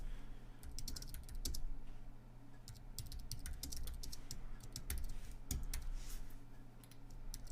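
Quick bursts of clicking keystrokes on a computer keyboard while coding in Python, close and fairly quiet, arriving in irregular runs over a low steady hum.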